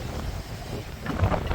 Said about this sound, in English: these winds have got to be hitting at least 80, if not higher, miles per hour for the gusts